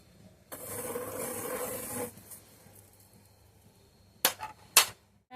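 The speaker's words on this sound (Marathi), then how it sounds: "आता त्याच्यावर आपण खसखस भाजून घेऊया छान खरपूस होईपर्यंत आपण खसखस भाजून घेऊया" Poppy seeds dry-roasting in a hot pan over a medium-low gas flame give a soft, close sizzle and crackle for about a second and a half, followed by a few sharp clicks near the end.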